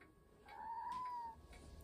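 A cat gives a single drawn-out meow, fairly close but soft, over a quiet low background hum.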